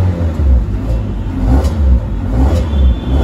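A Maruti Suzuki Swift's engine revs up and down a few times close by, a deep throaty roar swelling and easing in waves with nobody speaking.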